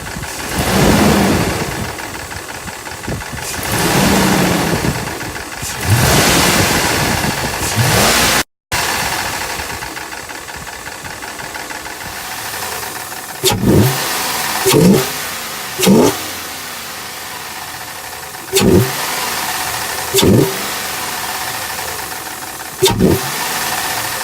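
Toyota 4Runner engine revved in short, sharp blips before and after a stock air intake swap, a steady idle between bursts and a sudden cut partway through, each rev rising and falling quickly, close and loud.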